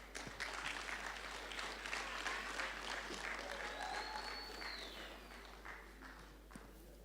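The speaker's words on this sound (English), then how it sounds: "Let's give him another big round of applause, please" Applause from an audience at a choral event, steady broadband clapping that is fairly faint and distant, holding through the whole stretch with light crowd noise and scattered louder claps.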